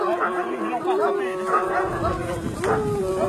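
A pack of Gascon Saintongeois hounds bays continuously at a cornered wild boar during a hunting pack competition, loud overlapping barks and yelps close by, with people talking over them.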